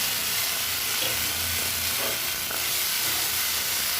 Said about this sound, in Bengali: আমি আলু পটলটা যে ভেজে রেখেছিলাম ওতে দিয়ে দিই।